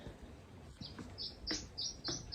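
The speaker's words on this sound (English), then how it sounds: "Listen to the birds." Small birds singing and chirping in a landscaped poolside garden in Tenerife, with several bright, short calls repeating at a moderate distance over a soft outdoor background.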